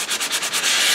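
Sanding paper rubbed over cereal box cardboard to take off its coating, a close, steady scratchy rasp that comes in rhythmic strokes before merging into continuous sanding, with no voices.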